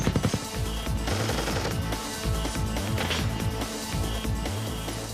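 Bursts of automatic gunfire crack out as Green Berets come under fire near a large cave complex, dense rapid volleys with sharp repeated reports running loud throughout.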